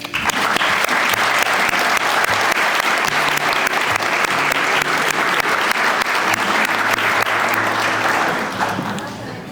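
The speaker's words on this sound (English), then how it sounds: "I think we should give them a round of applause." Wedding guests at a hotel reception applauding the hotel staff; loud, sustained clapping from a large room that fills the whole span and tapers off near the end, with some voices mixed in.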